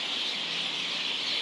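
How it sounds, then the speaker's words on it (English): Birds around sunset at Jalan Besar, Singapore, form a dense, steady chorus of chirps that blurs into a continuous high wash, moderately loud and unbroken across the moment. "Those birds. It's that time."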